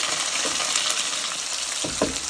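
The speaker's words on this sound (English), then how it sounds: "once these get to your level of doneness, you can go ahead and add in your potatoes" Potatoes sizzle in a pot alongside sausage and cabbage, a dense, close and steady frying hiss with a couple of brief stirring knocks near the end.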